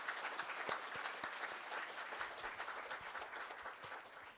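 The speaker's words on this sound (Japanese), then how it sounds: "これ本当にもう一度拍手をお願いします。" Audience applause at a zero-nuclear and renewable energy forum, a sustained, even patter of many hands clapping, moderately distant and without talk.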